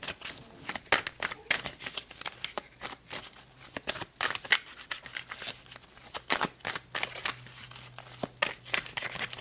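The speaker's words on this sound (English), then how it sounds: "So let's pull a couple of cards to see what the highlights are for this week." Tarot cards shuffled and pulled from the deck: a steady run of soft, close riffling and papery slaps in irregular bursts, quiet and alone with no talk.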